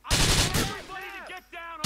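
Bursts of gunfire from a shootout in the video game GTA IV, loud and close, with sharp shots at the start and end around a stretch of raised voices.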